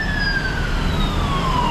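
Ambulance siren on a street in Taipa, Macau, a loud wailing tone sliding steadily downward over constant street noise, with no talking.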